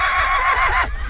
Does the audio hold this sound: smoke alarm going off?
no